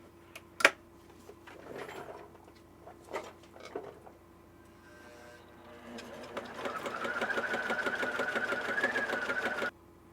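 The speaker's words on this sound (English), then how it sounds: "now we're going to see how this thing sews" A repaired Pfaff sewing machine runs steadily for several seconds, a rapid even stitching rattle, close and fairly loud, after a few earlier clicks and knocks of handling.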